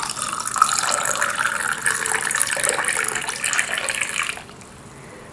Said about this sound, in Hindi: थोड़ा सा इसमें पानी डाल देते हैं।